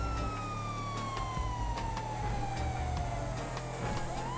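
Ambulance siren in a video game, a loud continuous wail with a slowly falling pitch held throughout over a steady engine rumble, with no talk.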